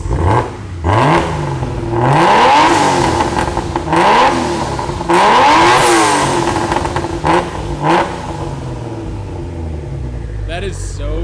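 A Ford Mustang fitted with a new Barra GT350 exhaust revs hard several times, its loud engine note climbing and falling in repeated bursts before settling toward the end.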